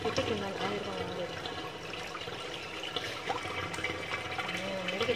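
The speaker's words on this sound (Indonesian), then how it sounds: "Terus aku baru dicuci air mengalir." Running water from a tap washing patin fish and vegetables, a steady splashing trickle throughout with some handling clatter, close by, while a person talks over it.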